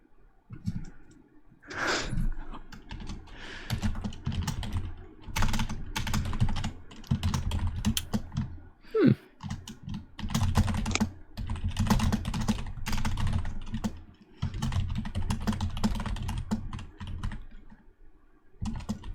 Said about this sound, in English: I hear a lot of typing going on.